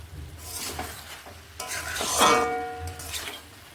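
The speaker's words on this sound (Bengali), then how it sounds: "এইভাবে একটুখানি নেড়ে নিচ্ছি" Cauliflower stem curry stirred in a pan once the lid is lifted: close scraping strokes of a spatula across the pan in a few uneven passes, with a light sizzle beneath and a brief metallic ring partway through.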